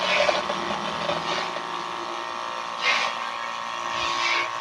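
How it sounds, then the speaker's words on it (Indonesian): A DC 12-volt high-pressure booster pump, model SL 4500, runs under load with a steady, loud mechanical whine and buzzing motor drone, close up, with a few brief surges in intensity. "Kita nyalakan dengan beban dulu."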